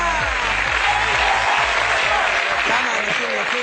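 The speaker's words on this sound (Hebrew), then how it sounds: "בוא נשמע אתכם עושים כפיים חזק" Loud, steady clapping from an audience at a 60th birthday party, filling the room continuously with rhythmic bass thumps of music underneath.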